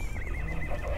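A horse neighs in a short, wavering whinny, fairly faint against a noisy outdoor background.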